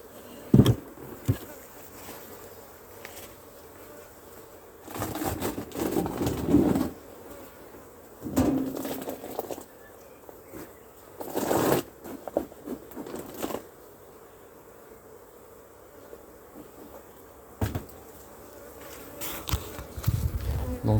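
Honeybees buzz around an open beehive as a hive box is worked on, the hum swelling and fading in bursts as insects pass close, with a bird cooing faintly in the background.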